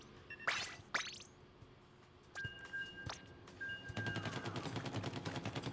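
Splatoon 3 Splatfest weapons firing: a few sharp isolated shots and pings, then a steady rapid stream of repeated shots, fairly quiet, with no talk.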